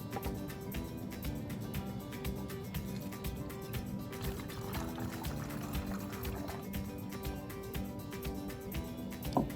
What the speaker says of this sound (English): we're going to pour our half a cup of alcohol into our bottle